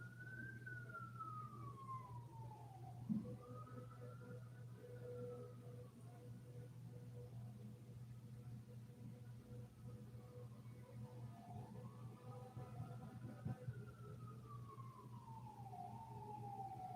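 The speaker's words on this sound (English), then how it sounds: "You hear them sirens." A wailing siren rises and falls in slow sweeps, somewhat distant, over a steady low engine hum.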